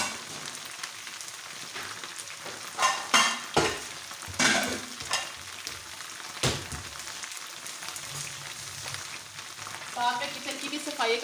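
Onions cook in a pan for bhindi masala with a bright, constant sizzle. Loud intermittent scrapes and clatters from a spatula working the pan break in every second or so, with no talking.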